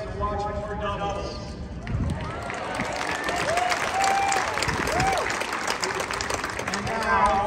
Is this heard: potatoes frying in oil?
no